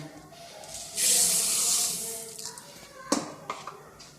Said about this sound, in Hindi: 1 कप के बजाय 2 कप पानी डालेंगे